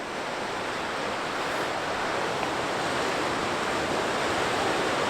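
Sea waves crash and churn against the layered limestone of Punakaiki Pancake Rocks on New Zealand's West Coast, making a loud, continuous rushing roar of surf that swells slightly, with no voices.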